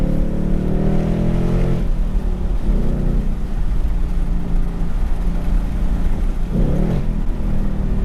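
A big V8 engine in a Ford Mustang GT Performance Pack muscle car revs hard toward 7,400 RPM, its pitch climbing steeply in repeated surges with a loud, close, continuous roar and brief dips between pulls.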